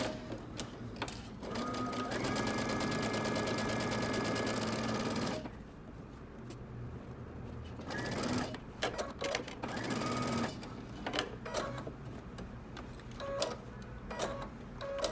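A sewing machine stitches a seam in a steady, fast mechanical run, then stops and restarts in shorter bursts with ticks and clicks between, close and moderately loud.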